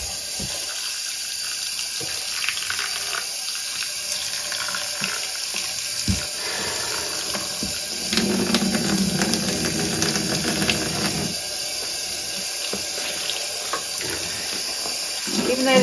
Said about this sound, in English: So I'm just going to rinse this through a couple of times and then hang it out to dry.